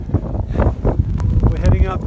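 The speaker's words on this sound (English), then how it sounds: "It's windy." Wind gusts and buffets the microphone in uneven bursts on a snowy trek toward Everest Base Camp, around 4,900 metres, while a person talks over the rough, blustery rush.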